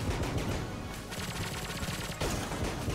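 In the Enter the Gungeon video game, a gun fires rapidly and continuously, a dense rattling stream of shots with a brief dip midway, over game sounds.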